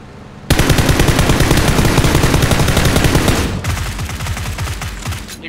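A long, loud, continuous burst of rapid automatic gunfire close by, with the shots running together for about three seconds before easing into a slightly quieter stretch of steady firing.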